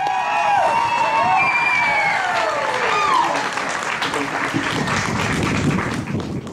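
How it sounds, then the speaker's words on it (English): A church congregation at a baptism service applauds a man being welcomed up, with sustained dense clapping and some cheering throughout and a raised voice riding over the start. "Can we give him a round of applause?"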